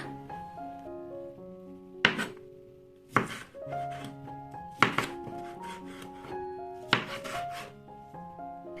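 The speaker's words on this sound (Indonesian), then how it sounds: "Untuk tomatnya kita potong memanjang juga ya." A knife slices a red tomato lengthwise on a cutting board while cooking stir-fried kwetiau noodles, giving four sharp thunks at uneven intervals over steady background music.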